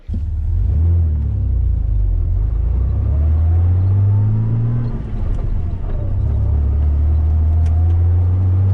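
Jeep TJ with 33-inch tires and 3.07 gears driving, a loud steady engine drone and road rumble from inside the cab, with the pitch rising through acceleration, dipping at a shift, then climbing again.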